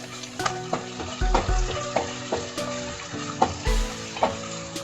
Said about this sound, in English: Add chopped tomatoes and stir fry in medium flame for 2 minutes